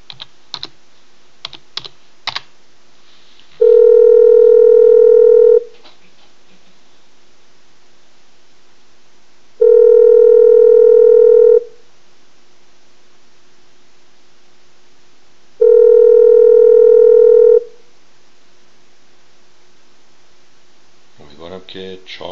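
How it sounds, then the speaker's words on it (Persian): Telephone line tones during redialing of a dropped call on a call-in TV show: three loud, steady electronic tones, each about two seconds long, separated by roughly four-second gaps of near-silence. A few soft clicks come before them. "اجازه بدید من مجددا تماس بگیرم"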